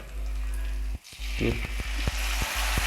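Garlic and ginger frying for a sukuti dish hiss in a loud, close sizzle that breaks off briefly, then resumes with scattered crackles and spoon taps.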